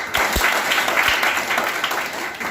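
Audience applause at a business event, a steady dense clapping from a crowd that continues throughout with a few sharper claps near the start.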